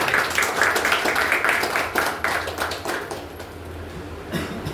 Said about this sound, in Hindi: तो जोर से तालियां बजाओ।